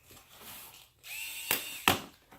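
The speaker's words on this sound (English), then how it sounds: "I'm using this little power drill I also got from IKEA." A small IKEA power drill whirs close by in two short bursts, with a sharp louder spike near the end of each and no talking.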